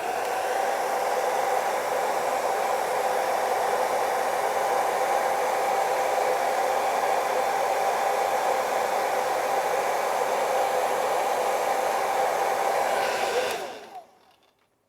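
A hand-held hair dryer blows steadily and loudly on a scale model AH-64 Apache helicopter. It is a continuous whooshing roar with no speech, and it cuts off near the end.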